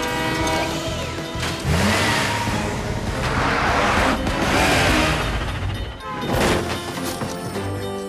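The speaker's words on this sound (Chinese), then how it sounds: "快点， 火车就快到了！" A cartoon freight train from a children's animated rescue show approaches with its horn sounding in long tones, layered over a busy, loud soundtrack of rumbling and music throughout.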